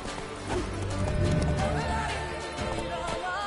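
Hooves of Roach, a horse in The Witcher 3: Blood and Wine, clip-clop in a steady galloping rhythm, loud and close, with a brief whinny over game music and a voice urging the horse on.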